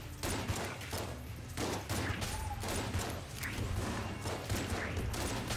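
An elephant gun fired repeatedly in the video game Enter the Gungeon, producing a quick, irregular run of heavy blasts that overlap into a dense barrage.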